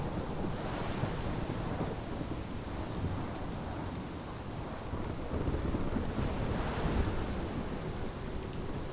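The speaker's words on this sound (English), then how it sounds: "This is my storm." A Life is Strange thunderstorm rages with dense, constant rain and blustery wind, thunder rumbling low and heavy throughout, loud and enveloping with no voices.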